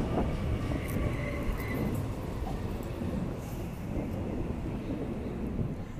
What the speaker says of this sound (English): Waratah A28 arriving into platform number 1, city service.